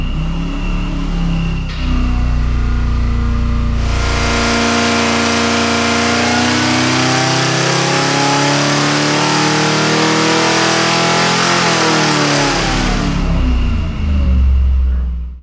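A Ford Cleveland 408 cubic-inch V8 revs hard on a dyno, rising from idle through a long, loud sweep to 5,000 RPM, holding the climb for several seconds before dropping back to a rumbling idle, close and alone.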